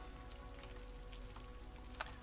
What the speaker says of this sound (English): goddamn this rain